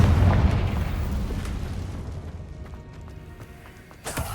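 A Confringo spell explodes in Hogwarts Legacy with a deep, loud boom that rumbles and slowly fades over several seconds, ending with a sharper crack.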